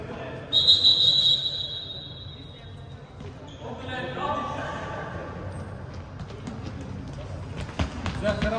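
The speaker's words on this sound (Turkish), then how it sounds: "hakem faul düdüğünü çaldı" A referee's whistle blows a short shrill burst for a foul during an indoor futsal match, heard over crowd noise and a bouncing ball, with commentary-like voices in the background.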